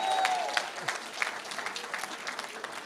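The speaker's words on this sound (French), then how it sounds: "Est-ce qu'on peut applaudir Myriam?" An audience applauds for Myriam at a French comedy show, a moderate spread of clapping with scattered sharper claps, fairly steady across the short stretch.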